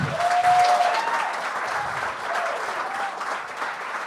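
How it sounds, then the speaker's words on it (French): A comedy show audience applauds a comedian on stage, a dense, steady wash of clapping that fades slightly toward the end, with a brief whistle near the start. "OK, ben on peut l'applaudir vraiment."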